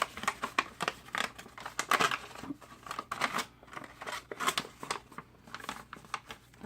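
A paper envelope flap is folded and tucked in to make a treat pouch, with close, irregular rustles, crinkles and soft scrapes of handled paper.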